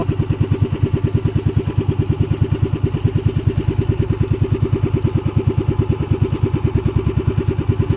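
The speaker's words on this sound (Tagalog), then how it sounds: "Hindi malaman kung ano talagang problema ng makina ko nito." A motorcycle engine with an unidentified mechanical problem idles loudly up close, its rapid, evenly pulsing beat running without a break throughout.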